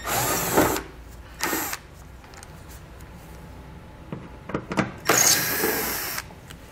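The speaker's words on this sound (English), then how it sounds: "So we'll grab a T15 Torx bit and pull both of those bolts out." A power drill fitted with a T15 Torx bit backs bolts out of a 2020 Chevrolet during a trailer hitch installation, whirring in three close, loud bursts separated by quiet gaps and a few small clicks.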